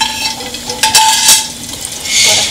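Garlic frying on a hot griddle (chapa) at a country farmhouse kitchen, giving a steady close sizzle with scattered scrapes and clinks of utensils against metal, no voices.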